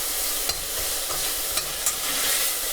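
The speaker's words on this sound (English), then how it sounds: "I'm rendering down the fat" Sausage fat renders in a hot pan with a steady, dense sizzle that holds constant, broken by a few faint clicks of stirring, close and without voices.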